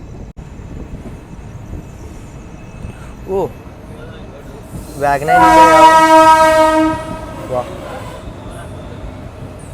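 On the Vijayapura–Mangaluru passenger train just out of Hubballi junction, another train arrives on the adjacent line and sounds a loud, sustained two-second horn blast over the steady rumble of the moving coach, with a short vocal exclamation beforehand.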